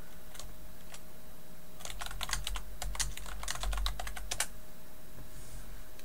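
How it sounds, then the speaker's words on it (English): Someone types a message on a computer keyboard, a close, quick cluster of key clicks in the middle of an otherwise quiet room with a faint electrical hum. "now I'm actually going to go and type a message"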